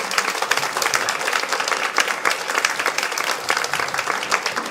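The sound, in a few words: congregation applause welcoming speaker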